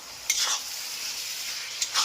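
Spice paste sizzles in a pan while being stirred, with a soft continuous fry and two brief scraping stirs near the start and the end.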